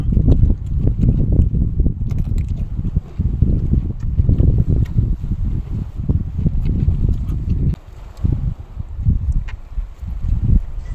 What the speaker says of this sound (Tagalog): Presko yung hangin dito mga idol, malakas.